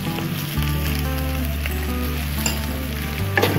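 Cooked beef sautés in a hot pan, with a steady, close sizzle and crackle throughout, a low hum underneath and occasional light stirring taps.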